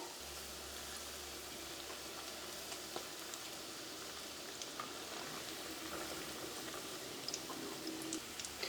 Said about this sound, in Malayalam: ഒരു മീഡിയം ഫ്ലെയിമിലിട്ടിട്ട് വറുത്ത് കോരിയെടുക്കുക.